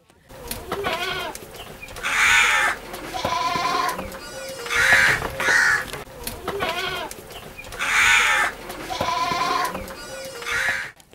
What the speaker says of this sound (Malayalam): ലോകത്ത് അട്ടപ്പാടിയിൽ മാത്രം കാണാവുന്ന ആടിനമാണിത്